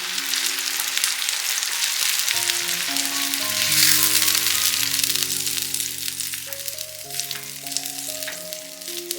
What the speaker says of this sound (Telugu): ఇప్పుడు దీనిలో మనం టమాటా ప్యూరీ వేసుకోవాలి. దీన్ని మనం బాగా మిక్స్ చేసుకోవాలి.